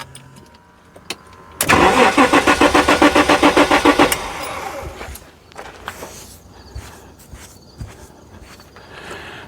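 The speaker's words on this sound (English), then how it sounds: "It's cranking faster" A 1994 Jaguar XJ6 engine cranks without starting: a loud, rapid rhythmic churning of the starter for about two and a half seconds, then it stops, followed by quieter clicks and shuffling nearby.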